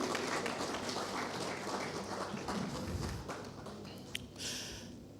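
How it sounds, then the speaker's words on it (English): A gala dinner crowd applauds with steady, dense clapping that carries on for several seconds before thinning out near the end. "So another round of applause for my madam at the top."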